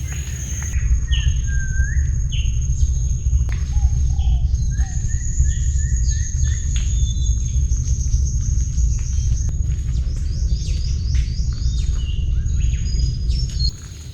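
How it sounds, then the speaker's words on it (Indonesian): Many birds chirp and whistle in the mangrove forest of Lubuk Kertang, Indonesia, with overlapping calls throughout against a steady low outdoor rumble. "Burung-burung ini hidup dan mencari makan di pepohonan bakau yang tersebar di hutan mangrove Lubuk Kertang."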